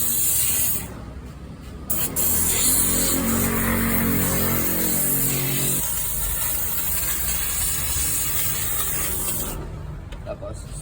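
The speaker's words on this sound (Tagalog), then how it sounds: "Tapos, spray ng APC." Aerosol-style spraying of all-purpose cleaner during car detailing, a steady hiss lasting several seconds with talk heard faintly in the background.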